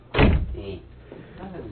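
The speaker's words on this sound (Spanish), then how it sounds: "Pásenle, cierren la puerta." A door swings shut with one loud, close thud, followed by a faint murmur of voices in a room.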